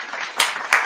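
Two sharp hand claps about a third of a second apart, close and crisp, standing alone over a faint background hiss.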